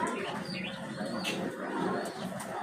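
Racing pigeons in a loft coo softly in low, murmuring calls, blended with background noise.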